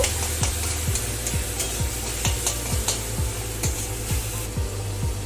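Tomato paste stirred into prawn curry (chingri machher jhal) in a frying pan, a steady spoon scraping every half second or so over a continuous sizzle, close and alone with no voices.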